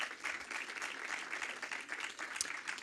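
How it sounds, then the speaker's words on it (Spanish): Audience applause at a corporate study presentation and panel, a continuous patter of many hands clapping at fairly steady loudness, with a few sharper claps standing out near the end. "Un aplauso, por favor."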